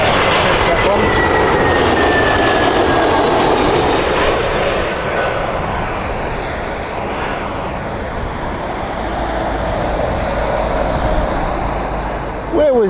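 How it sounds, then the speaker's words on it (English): An Emirates Airbus A380 jet on final approach at Heathrow Airport passes with a loud, sustained jet engine roar and a descending whine, close and powerful throughout, with people talking underneath. "Emirates, final A380. That one."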